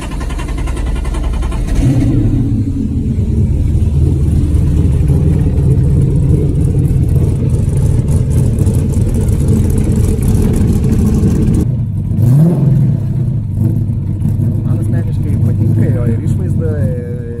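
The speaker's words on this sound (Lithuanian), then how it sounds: "jo širdis liko ta pati, V8 variklis viduje, na toks pats, kokį turi ir korvete" A V8 engine in an MD Optimus rally buggy built for the Dakar revs loudly and steadily, holding a deep rumble with a brief rising surge near the end.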